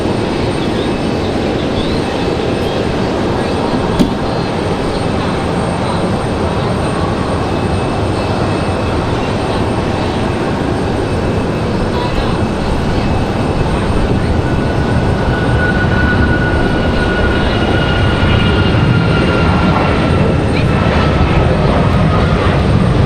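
A United airliner moves at Raleigh-Durham airport, a loud continuous engine roar and rumble with a thin whining tone gliding upward partway through, steady and close.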